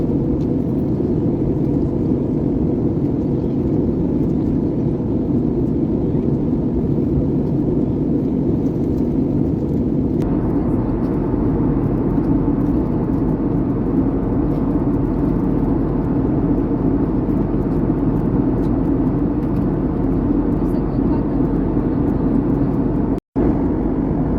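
Loud, continuous engine roar and low rumble of an aircraft landing, steady for the whole stretch with no talking.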